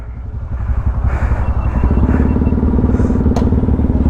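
A motorcycle engine at the start of an off-road ride, a close, loud rumble that builds and settles into a steady, even throb.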